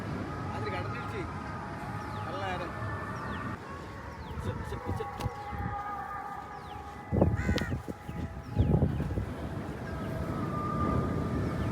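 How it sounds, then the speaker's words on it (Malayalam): Crows caw repeatedly near a fish landing at Poonthura where small boats bring in their catch, the harsh calls rising over a busy background of voices and clatter, with a few louder bangs partway through. "അപ്പുറത്ത് കാക്ക"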